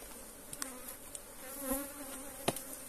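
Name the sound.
honey bees buzzing at opened beehive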